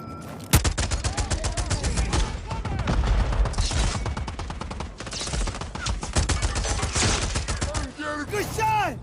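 Gunfire in a video game, rapid bursts of automatic shots and scattered single cracks in a dense, busy mix with faint voices underneath, ending in a few sharp impacts.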